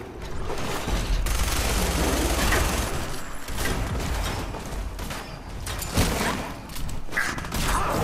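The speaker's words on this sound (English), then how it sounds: "Are y'all gonna help or are y'all just gonna shoot at me?" Sustained rapid gunfire and booming shots in Fallout 4, a dense loud barrage running continuously with thuds and mechanical clatter, no voices.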